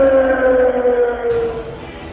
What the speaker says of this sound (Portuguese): Ouvimos nesta altura a sirene que é usada em Caldas de Vizela para chamar os vizelenses para a rua.